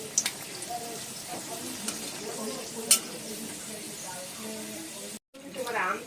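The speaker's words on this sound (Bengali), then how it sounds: "আর এখন এটা মোটামুটি 30 থেকে 40 সেকেন্ড আমরা একবার ভালো করে ভেজে নেব।" Whole cardamom pods, cloves and dried red chillies frying in oil, a close crackling sizzle with spoon scrapes and a few sharp pops, a voice talking over it, and a short silent gap before the frying resumes.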